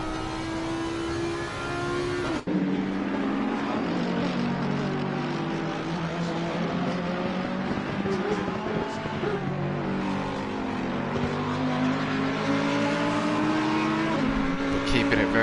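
Number 44 Audi race car at Zolder, heard onboard from the driver's helmet cam: a loud, continuous engine roar with rising and falling pitch through gear changes, under a commentator's voice.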